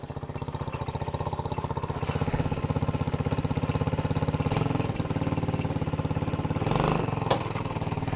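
A radio-controlled four-wheeler's small engine runs steadily with a buzzing, pulsing drone that rises briefly as the throttle opens near the end.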